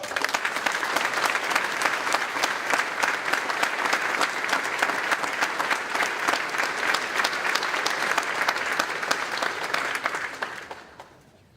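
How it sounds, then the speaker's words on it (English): An audience applauds an honoree at a North Carolina bill-signing ceremony for veterans and military families, with steady, dense clapping that carries on for about ten seconds before fading out at the end. "Y'all give him a round of applause."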